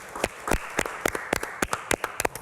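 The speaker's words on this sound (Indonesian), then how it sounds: "Saya minta yang ada di studio kita beri tepuk tangan dulu untuk Mbak Nora." A studio audience gives scattered applause during a health talk show, heard as sparse, irregular individual claps rather than a full ovation, fairly close and brief.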